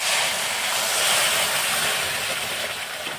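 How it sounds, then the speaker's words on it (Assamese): Milk being poured into hot fried semolina (sooji) in a pan for sooji mithai, giving a loud, steady broadband sizzle and hiss that holds throughout and eases slightly toward the end, with no talk. "চুজিখিনি এনেদৰে ভাজি ল'লোঁ আৰু এতিয়া দি আছোঁ ইয়াতে গাখীৰ"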